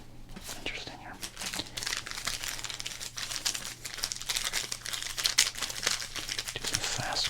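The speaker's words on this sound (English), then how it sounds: "Do some fast crinkles for you. Rapid crinkles." Rapid, close crinkling of plastic sleeves around sports trading cards, a dense continuous rustle of fast bursts throughout with faint whispering mixed in.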